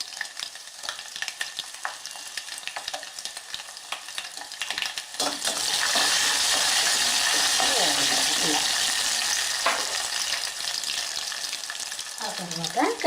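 Crushed garlic and two dried red chillies sizzle in hot oil for a Telugu dal rasam (pappu charu), a loud, steady broadband frying hiss that swells midway and continues with light stirring.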